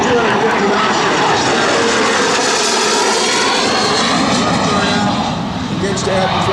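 An L-39 Albatros jet trainer makes a low-speed flyby at an air show, its engine a loud, steady roaring whine that holds for the whole stretch while an announcer talks over it.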